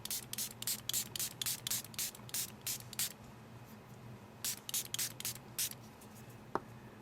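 Repeated short bursts of a liquid spray bottle misting a Samsung Galaxy S3 for a SkinPea protector, about ten quick hissing pumps in a row, a pause, then five more, close and clear over faint background noise.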